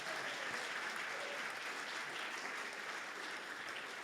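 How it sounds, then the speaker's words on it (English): A church audience at a comedy evening applauds in a steady, dense wash of many hands clapping, sustained evenly from start to finish at a moderate distance. "So give him a round of applause for literally"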